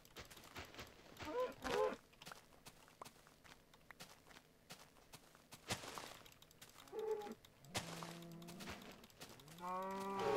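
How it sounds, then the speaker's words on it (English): A cow moos in the Minecraft video game while the player gathers food, with several short game-animal calls near the end over faint footsteps and clicks. Brief speech-like sounds appear early. "Come hither, cow. Do not delay the inevitable."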